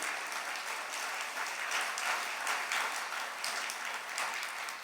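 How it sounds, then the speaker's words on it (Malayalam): An audience claps steadily throughout at a Catholic religious talk, a dense, even wash of hands that neither swells nor fades. "ഒന്ന് കൈയടിച്ച് കർത്താവിനെ മഹത്വപ്പെടുത്തും."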